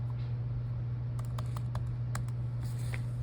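Keystrokes tapped on a MacBook Air M1 keyboard while entering a password, a scattered run of light clicks over a steady low hum, close and fairly quiet.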